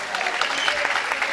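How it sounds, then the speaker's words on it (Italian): Brief, steady audience applause at a sports testimonial event in Rivarolo Canavese, a dense, even patter of many hands clapping. "vi congediamo con un grande grandissimo applauso."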